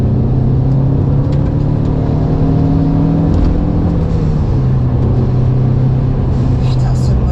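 Lancia Delta Evo 500 engine pulling hard on a rough road, a steady mid-pitched drone with slowly rising harmonics, heard from inside the car with voices talking over it.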